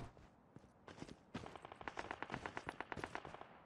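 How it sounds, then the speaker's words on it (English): Automatic gunfire in the mobile shooter Call of Duty Mobile rattles out in rapid rhythmic bursts, starting with a few scattered shots and then settling into a fast, repeated volley, sounding fairly distant and quiet. "Where are those gunshots?"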